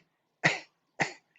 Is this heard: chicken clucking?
no